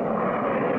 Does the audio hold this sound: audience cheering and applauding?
no